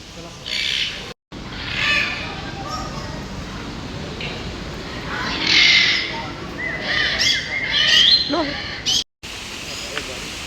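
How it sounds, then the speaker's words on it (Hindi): A red parrot in Malaysia gives several harsh, bright squawks and calls, close by and loud, over busy background noise with people talking nearby. "ये देखना रेड वाला तोता है"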